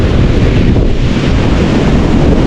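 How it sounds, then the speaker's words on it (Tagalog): Ocean waves wash onto a beach beside moored fishing boats while strong wind buffets the microphone, making a loud, steady, broadband roar with no pauses. "Abot dito ang alon eh."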